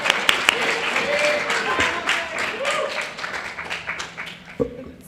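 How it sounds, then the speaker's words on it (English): Audience at a BronyCon 2013 convention panel applauding, a steady round of clapping in a hall with voices talking over it and a sharp clap near the end. "Give him a round of applause."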